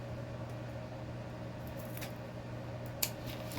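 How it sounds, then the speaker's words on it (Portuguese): Scissors snip through the teeth of a zipper on one side while a cosmetic box bag is being made, with two or three sharp, close cuts over a steady low hum. "corta os dentinhos só de um dos lados"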